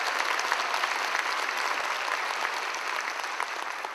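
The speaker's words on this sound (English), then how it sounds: "another round of applause for President Keys." Sustained applause from a conference audience at York College's Caribbean Conference, a steady, even wash of many hands clapping at moderate distance, with no talk over it.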